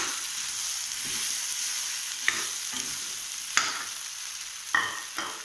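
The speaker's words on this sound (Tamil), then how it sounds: "இப்போ காளான் போடணும். ரெண்டும் சேர்த்து 2-3 மினிட்ஸ் நல்லா வதக்கணும்" Mushrooms sautéing with onion and tomato in a pan for South Indian mushroom masala, a steady close sizzle broken by a few sharp scrapes and clinks of a stirring spoon, with no talking.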